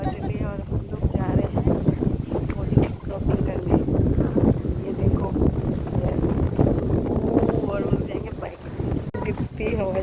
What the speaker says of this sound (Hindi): कितनी हवा चल रही है सच में